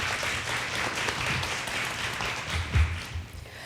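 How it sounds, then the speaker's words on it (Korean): Audience applauding at the close of a panel discussion on AI and femtech for overcoming low birth rates at a Seoul conference, a steady wash of clapping from a crowded hall with one louder thump near the end. "여러분 다시 한번 큰 박수 부탁드리겠습니다"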